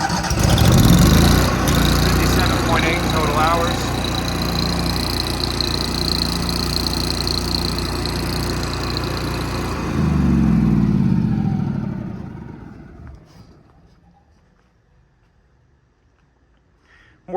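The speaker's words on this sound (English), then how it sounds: "The welder is a Bobcat 250, has a new carb and a new battery on it" A Bobcat 250 welder with a new carburetor and battery runs steadily on a truck service body, its engine drone holding for about ten seconds, swelling briefly, then fading out to near silence.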